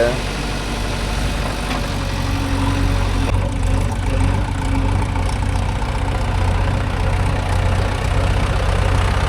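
A Mahindra tractor engine runs loud and steady while hauling a load of soil, a constant, heavy mechanical drone that continues through the whole stretch.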